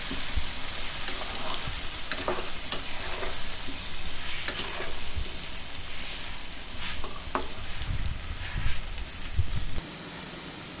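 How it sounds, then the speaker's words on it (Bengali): Onions and potatoes fry in a pan with a steady, dense sizzle, punctuated by brief scraping stirs, heard close and alone without talk. "এবার এগুলোকে হালকা করে ভেজে নেবো।"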